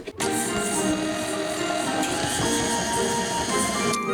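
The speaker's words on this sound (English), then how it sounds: "We will plug up our KitchenAid." A KitchenAid stand mixer creams butter and sugar in a kitchen, giving a loud, steady motor whir that starts abruptly and holds at an even level throughout.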